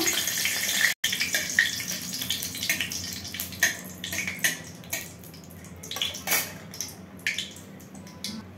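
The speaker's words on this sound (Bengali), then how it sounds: "এখানে আমি 4টা শুকনো লঙ্কা দিয়ে দিচ্ছি ফোড়নের জন্য" Four dried red chillies crackle and hiss in a generous amount of hot mustard oil for tempering a Bengali aloo posto, a continuous close sizzle with scattered pops and faint utensil clinks.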